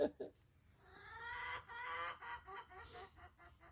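A rooster crows once in a long, strained call, fairly close, with some faint background noise.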